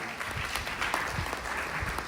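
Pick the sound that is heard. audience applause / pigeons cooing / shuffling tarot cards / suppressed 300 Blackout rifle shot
audience applause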